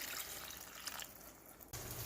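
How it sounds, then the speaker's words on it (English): A cup of water is poured into a pork and sugar beet stew pot, making a soft, steady stream of liquid that cuts off near the end before a low hiss resumes. It is faint and close, with no voices. "I'm going to add a cup of water"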